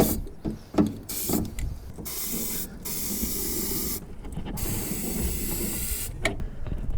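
Rust converter sprayed from a can into the door pinch seams of an 84-01 Jeep XJ, several hissing bursts of varying length separated by short pauses, close and fairly loud.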